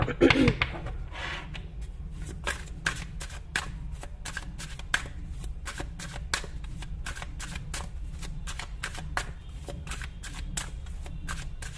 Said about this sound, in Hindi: जस्ट अ मिनट, थोड़ा मैं शफल कर लेती हूँ इसको।